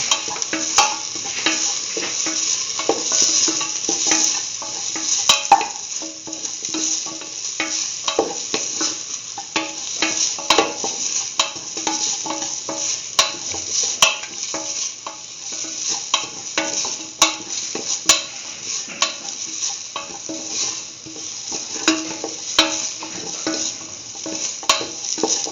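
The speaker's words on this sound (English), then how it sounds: "Thoroughly mix." Spices being stirred into a tomato, beetroot and coconut curry stew in a pan, with a steady bubbling sizzle and scraping stirs running throughout, close and fairly loud, no talking.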